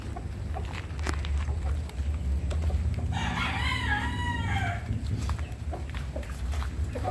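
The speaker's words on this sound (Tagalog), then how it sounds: "Ang gaganda nitong pangalawang bulik na to, tingnan niyo." A bulik gamefowl rooster lets out one long, loud crow near the middle, with softer clucks and farmyard murmur around it and faint background noise throughout.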